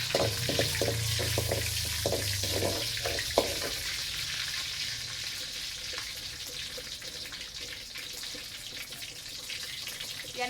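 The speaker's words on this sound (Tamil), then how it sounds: "காஞ்ச மிளகாய் வந்து நம்ம வறுத்து குட்டி கடைஞ்சா வாசம் நல்லா இருக்கும்" Dried red chillies frying in oil in a pan for a village-style greens dish, a steady close sizzle with brief stirring clatter early on, no talk.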